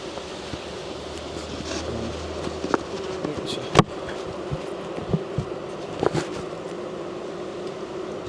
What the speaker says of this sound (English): The noise of these bees. It's amazing.